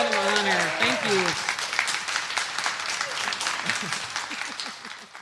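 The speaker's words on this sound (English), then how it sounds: "how about a big round of applause for Annett Mateo" A studio audience claps at the close of a puppetry interview show, a dense, sustained burst of applause with a voice speaking over it at the start.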